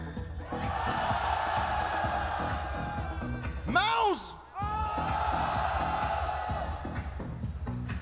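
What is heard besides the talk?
arena crowd cheering at esports grand final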